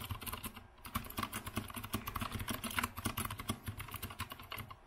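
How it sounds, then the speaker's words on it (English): Typing on an Azio Retro Classic Bluetooth mechanical keyboard with leather trim, a dense, steady run of close, crisp clicky keystrokes with no talking. "You would have it like this and you can type."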